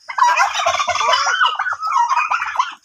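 Turkeys on a farm gobble in a loud, close, rapid burst of warbling calls that runs almost without pause for about three seconds, with no talking.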